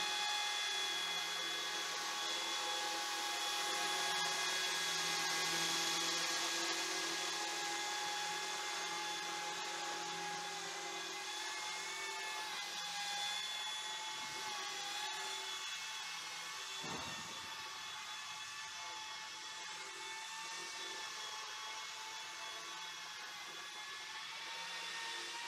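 A steady high-pitched motor whine with a buzzing rotor hum holds nearly constant from a Modster BO-105 RC model helicopter hovering close by indoors.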